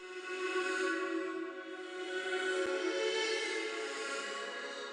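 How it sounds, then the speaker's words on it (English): A sustained flute sample processed with delay, reverb and wide stereo effects, made as a simple loop for a Wheezy-style beat in FL Studio 20, giving an airy, smeared wash of held tones with one faint click partway through. "And so with all the effects, it sounds like this."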